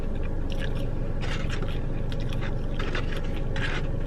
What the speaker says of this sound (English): I love waffle fries. Especially when they're extra crispy.